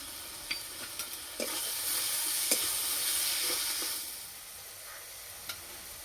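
Spice masala fries in oil for a Bengali chicken fry and is stirred with a utensil. A soft, continuous sizzle is broken by occasional light scraping clicks, heard alone and fairly quietly.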